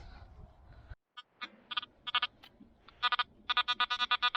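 A metal detector sweeping a beach gives a series of short, bright electronic beeps, sparse at first and then coming in quick, evenly spaced bursts, close and clear with no talking.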